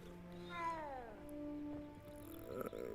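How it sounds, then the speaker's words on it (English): Cat meowing in the Hogwarts Legacy video game, a drawn-out falling meow followed by a shorter second call, fairly close and clear over quiet game ambience. "All these doggone cats in this game"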